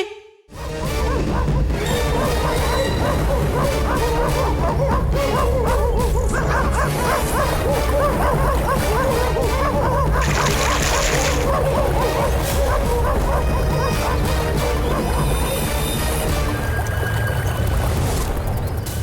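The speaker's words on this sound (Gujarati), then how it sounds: "આ તો કૂતરા આવી રહ્યા છે." Dogs bark and yip repeatedly amid a dense, loud background of music and commotion, with occasional voices.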